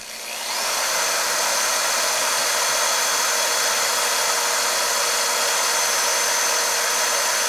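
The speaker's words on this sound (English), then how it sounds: "Oh, it's an engraver. It's an etcher." A high, buzzing power-tool whine starts up and then runs steadily, close and unbroken, like a small rotary engraver grinding at a surface.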